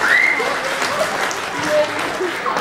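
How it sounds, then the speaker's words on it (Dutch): A school opening ceremony audience gives thunderous applause, steady dense clapping from a crowd with a few voices and whistles mixed in. "ik zou graag een daverend applaus voor diegenen die ik dan niet genoemd heb"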